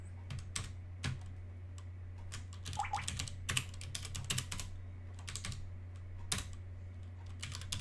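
Typing on a computer keyboard while entering a password, with irregular soft, close key clicks in short bursts over a steady low hum and no talking.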